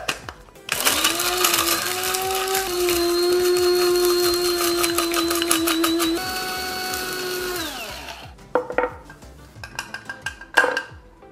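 Electric spice grinder whirring through dried chilies, a steady high motor whine for about seven seconds with rattling inside, then winding down into clinks and taps of handling.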